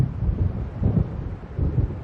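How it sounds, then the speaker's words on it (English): Stormy ambience from the video game Alan Wake Remastered, with a steady low rumble and wind-like roar that swells in soft waves, close and continuous with no voices. "It seems there's a storm coming."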